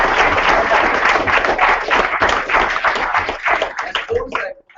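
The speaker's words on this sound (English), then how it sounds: "So round of applause for everyone." Audience members at a marketing talk give a loud round of applause, close and busy at first, then thinning into scattered claps and tapering off near the end, with a few voices mixed in.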